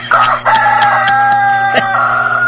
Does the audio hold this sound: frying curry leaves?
no